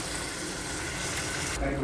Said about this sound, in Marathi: आपण ह्याच्यामध्ये थोडंसं पाणी करून घेऊया लागेल तेवढं पाणी घाला